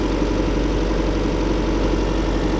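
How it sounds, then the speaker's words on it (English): 2014 Chevy Volt Ecotec engine idling with a partial misfire on cylinder 4, a steady, dense low rumble heard close and continuous with no voices. "Partial misfire all the time on cylinder 4."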